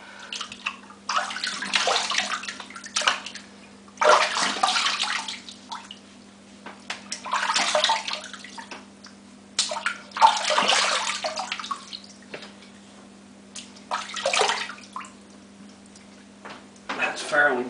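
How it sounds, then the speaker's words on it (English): Tap water runs in repeated bursts into a bathroom sink while someone rinses off after a shave, the splashing stopping and starting with quiet gaps between, with a low steady hum underneath. "Let me rinse off quick."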